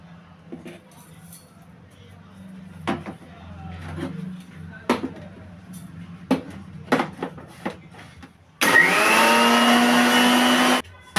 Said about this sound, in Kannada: ಮೊದಲನೇದಾಗಿ ನಾನು ಓಟ್ಸ್ನ ಮಿಕ್ಸಿ ಮಾಡ್ಕೊತಾ ಇದ್ದೀನಿ, ಅಂದರೆ ಪುಡಿ ಮಾಡ್ಕೊತಾ ಇದ್ದೀನಿ.